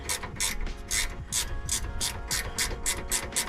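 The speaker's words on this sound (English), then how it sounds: "Ratchet." Ratchet wrench clicking steadily in quick bursts while working on a 1968 Datsun 510, about a dozen close, crisp ratcheting strokes in a regular rhythm with no talking.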